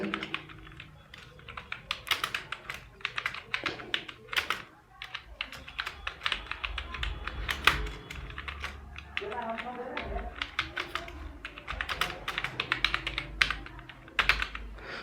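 Rapid clicking on a computer keyboard while HTML code is typed, with dense irregular keystrokes throughout and someone speaking over them at times.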